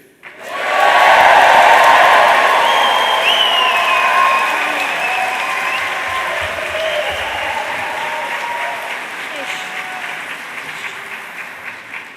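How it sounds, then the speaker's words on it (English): A large crowd at a school awards ceremony bursts into loud cheering and applause that peaks early, then slowly fades while clapping continues. "after 3, we'll have a big cheer for the class of 2024"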